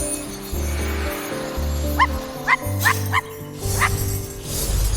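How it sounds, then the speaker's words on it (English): A dog character in the video game I Am Dead gives several short barks and yips in a quick irregular series, clear and close over a steady synthetic game soundtrack. "Normally I could just bark at them"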